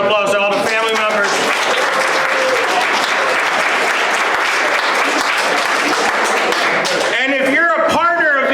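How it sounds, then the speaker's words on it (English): A crowd at a pancake breakfast fundraiser for a shelter workshop claps loudly and steadily for family members, while voices call out and cheer at the start and at the end. "Let's give a round of applause to all the family members."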